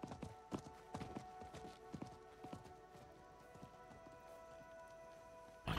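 A merchant's horse in the video game Diablo 4 walks with quiet, steady clip-clop hoofbeats that fade after a few seconds, followed by a brief louder burst at the end.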